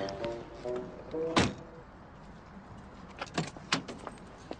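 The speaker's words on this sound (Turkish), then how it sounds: "Buyurun efendim şöyle böyle kapınızı açayım" A car door is opened in a few firm mechanical clicks and a solid thunk, with a light metallic rattle, close by and without talk.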